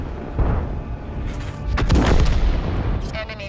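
Tank cannon fire and heavy shell hits boom through a World of Tanks battle on the Studzianki map with an M53/55, loud rumbling blasts and crackling impacts under a voice from the game.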